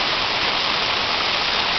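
The Petousi waterfall at Polydroso in Souli, with heavy water in a deep gorge, gives a loud, continuous, rushing roar heard up close.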